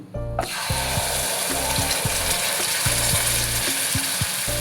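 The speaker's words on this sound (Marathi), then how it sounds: "आता आपलं तूप तापलेलं आहे. आपण याच्यात 1/2 चमचा जिरे घालून घेऊ." Cumin seeds drop into hot ghee and burst into a sudden, steady hissing sizzle that carries on evenly after a brief rhythmic clicking start.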